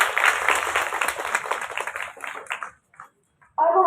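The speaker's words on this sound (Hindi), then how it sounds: "जोर से तालियां कब हो रही है।" An audience at a one-day women's domestic workers' conference claps loudly for a few seconds, then the applause thins out and stops, with a brief louder sound at the end.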